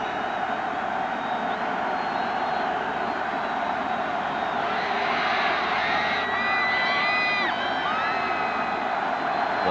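A football stadium crowd at Memorial Stadium in Lincoln, Nebraska, during a 1993 Nebraska vs Oklahoma game on a windy day, roaring steadily throughout, swelling louder with whistles and shouts in the second half.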